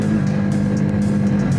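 A Honda CB125R motorcycle engine hums loudly and steadily up close, a continuous droning rev with little change in pitch and some wind noise.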